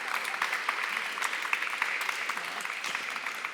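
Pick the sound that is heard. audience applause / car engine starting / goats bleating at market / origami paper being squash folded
audience applause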